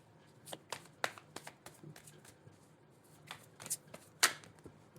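Tarot cards are shuffled and laid down on a table, giving soft, irregular close flicks and light slaps with a few sharper snaps over a quiet background.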